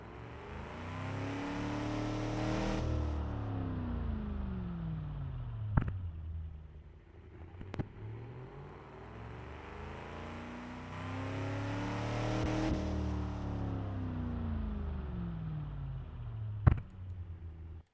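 A small engine in a 1950s American truck built in Automation revs up in long rising and falling sweeps, droning steadily near and loud, with a few sharp clicks between runs.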